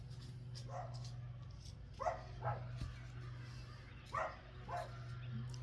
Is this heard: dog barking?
yes